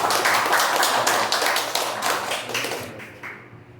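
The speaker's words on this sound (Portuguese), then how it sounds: "palmas pela vida do pastor Eduardo." A church congregation applauds together, a dense crowd of clapping hands that holds steady and then tapers off and stops near the end.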